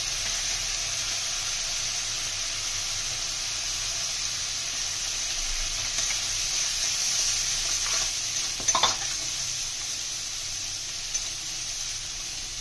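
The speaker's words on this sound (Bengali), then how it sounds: "চিংড়ি মাছ, পেঁয়াজ, মশলা সব ভাজা হয়ে গেছে," Prawns, onion, turmeric and cumin powder frying in a pan produce a constant close sizzling hiss, with brief spatula stirring and scraping sounds partway through.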